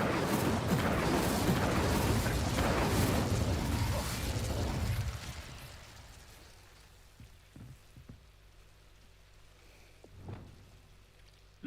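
Incendio fire spell in the video game Hogwarts Legacy, a dense roaring crackle of flame that rises loud, holds for several seconds and then suddenly cuts away, leaving quiet with a few soft pops and a faint burst late on.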